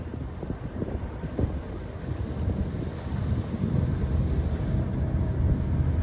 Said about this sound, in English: he's using the joystick now to bring the boat in sideways.